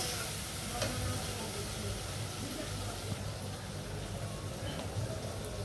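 Ginger garlic paste fries in a pan for a potato and egg curry, giving a steady close sizzle with faint stirring scrapes throughout and no talking.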